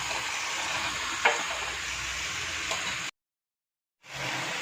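Cut vegetables for a vegetable biryani are added to a hot pan and mixed, a steady close sizzle with a light clack, briefly cut to silence before the frying resumes.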